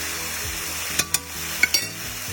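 Meat cooking pink side down in a pan over medium heat: a close, continuous sizzle with a few sharp pops and clicks near the middle, and no talking.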